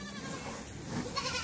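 Goats bleating on a goat farm in Pakistan at feeding and milking time, a steady close herd sound with several overlapping calls and rising bleats toward the end, with no talking.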